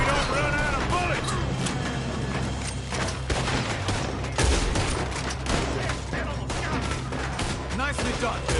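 A gunfight in Red Dead Redemption II: dense, rapid volleys of gunfire crack nonstop, with heavy shots and clattering impacts piling over one another for the whole stretch.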